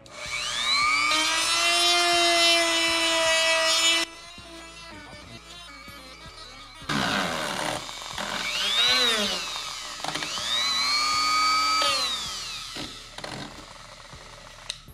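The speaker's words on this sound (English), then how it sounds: "So we have our Dremel. I just have a normal shaving piece on the inside." A Dremel rotary tool fitted with a shaving bit grinds inside a Miata part, a loud high whine that rises and falls in pitch as the bit bites, with bursts separated by quieter pauses and no talking.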